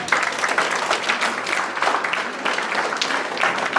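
Audience applause for an Armenian duduk player at a youth folk-instrument orchestra concert-lesson in a village, a dense, steady roomful of clapping that continues loudly throughout.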